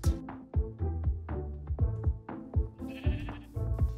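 Sheep in Minecraft bleat over and over, about eight short wavering cries in an uneven rhythm, close and clear, with no other sound competing.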